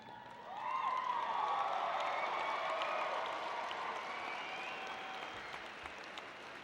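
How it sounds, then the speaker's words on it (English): Graduates at the 2014 OTC commencement ceremony give a standing ovation, steady applause from a large crowd filling a hall, sustained and even throughout. "Let's have the graduates give a standing ovation to their family and friends."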